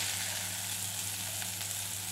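Anjal fish fries in a pan with a steady, close, crackling sizzle that holds evenly throughout, with no voices over it.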